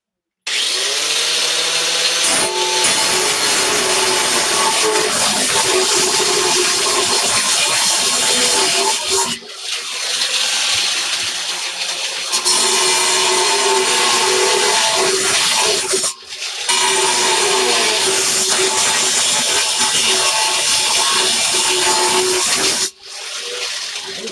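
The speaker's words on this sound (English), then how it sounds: "this thin stuff doesn't take long at all to cut with an angle grinder" Angle grinder cutting thin metal outdoors on a cool day, a loud continuous high whine in long bursts with brief pauses between cuts.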